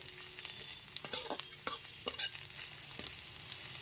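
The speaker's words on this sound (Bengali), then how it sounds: "পেঁয়াজটা একটু লাল করে ভেজে নিতে হবে" Chopped onions sizzle steadily in a hot pan over a medium gas flame, with a spoon occasionally scraping and stirring, crackling bursts rising over the constant frying hiss.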